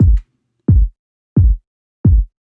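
Four punchy, deep, compressed kick drum thumps at a steady, evenly spaced pace, each short and tight with silence in between.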